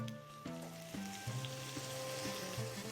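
Vegetables seasoned with salt, black pepper and dried herbs are stirred in a hot pan, giving a steady close sizzle broken by a few sharp utensil knocks against the pan, with a faint steady hum underneath.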